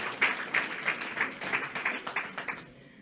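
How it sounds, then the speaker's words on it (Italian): Audience applause for a joke at a Lega party candidates' presentation in Rivarolo, a short run of fairly faint, steady, rhythmic clapping from a small crowd that fades out at the end. "un applauso alla battuta"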